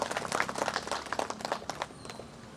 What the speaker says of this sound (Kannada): ಅವ್ರಿಗೆ ನಾವು ಒಂದು ದೊಡ್ಡದಾಗ ಚಪ್ಪಾಳೆ ತಟ್ಟು ಅವ್ರಿಗೆ ಅಭಿನಂದನೆ ಸಲ್ಲಿಸಲೇಬೇಕು